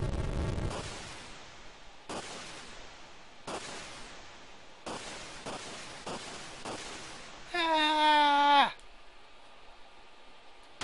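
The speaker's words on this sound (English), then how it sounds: "Ah! Explosions!" Retro video game explosions in Chrono Trigger: a series of sharp bursts repeating every second or so, each trailing off in hiss, then a brief bright warbling tone, with no talk over them.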